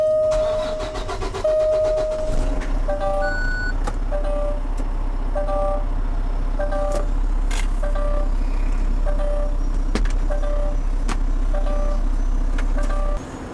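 A truck engine cranks briefly and catches at a touch-a-truck event, then settles into a steady, loud idle that runs throughout, with a repeating electronic beeping chime over it.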